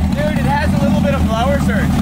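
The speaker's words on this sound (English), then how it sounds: "Blower surge." A slammed, supercharged 1965 Ford Mustang idling roughly, its blower engine wavering and surging in a loud, close, continuous rumble, with someone talking over it.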